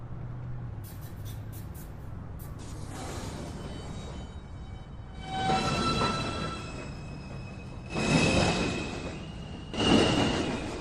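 NYC subway train on the 1 line at an underground station, with a low rumble and door thumps followed by rising bursts of rail noise as the train moves off, a chime early on.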